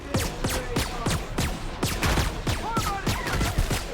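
Rapid bursts of gunfire in The Outer Worlds, a dense, fairly loud fusillade of sharp cracks in quick succession, with a voice speaking over it.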